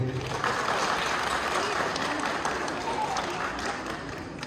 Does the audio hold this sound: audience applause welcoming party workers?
yes